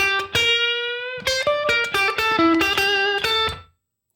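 Electric guitar on the neck pickup, picked with a Fender Tortuga pick, playing a slow blues lick: a sustained opening note followed by a run of quick, clean picked notes, alone and close.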